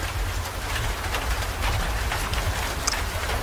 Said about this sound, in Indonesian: Itu adalah suara hujan.